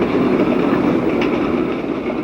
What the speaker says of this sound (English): The Rocky Mountain Rocket wastes no time in rolling through the same bridge.